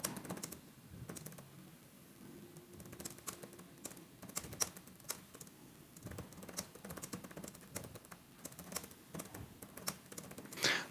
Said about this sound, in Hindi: मैं आपको अभी टाइप करके दिखा देता हूँ